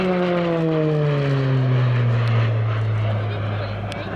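Uprated Garrett turboprop of an RAF display aircraft at an airshow, a loud sustained propeller drone whose pitch slowly falls as it passes, strong and close with steady roar throughout.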